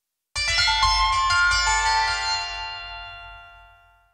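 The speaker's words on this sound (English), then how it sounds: "I've gone back to an earlier pluck sound." A physical-modeling pluck synth patch in Surge XT, excited by an inharmonic sample, strikes one bright metallic note that rings with bell-like overtones and decays slowly over about four seconds, alone with no talk.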